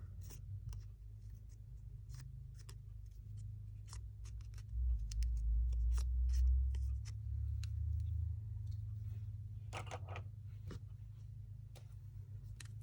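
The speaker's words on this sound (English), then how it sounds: "I'm going to use the extra small precision scissors" Small precision scissors snip paper repeatedly in quick, irregular clicks, close and fairly quiet, over a steady low hum.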